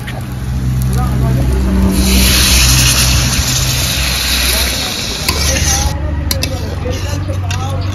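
Water poured into a hot pan of spicy tilapia curry (macher jhal) sets off a loud, rushing sizzle that swells and then slowly settles into a steady bubbling hiss.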